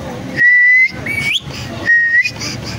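A shrill whistle sounds in two separate blasts, each steady and then rising at the end, loud and close, with no talk over it.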